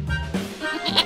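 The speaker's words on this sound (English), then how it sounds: "Goat." A goat bleats in a brief, close, wavering cry with a couple of short pulses, loud and heard alone.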